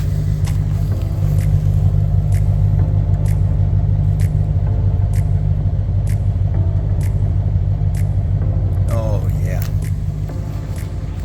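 A tuned 454 truck engine idles close by with a loud, steady, deep rumble that holds for the whole stretch, with a faint voice briefly audible near the end.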